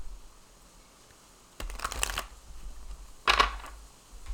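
A deck of playing cards is given two quick shuffles, each a short papery riffle burst close by, the first lasting about half a second and the second briefer, over a quiet background.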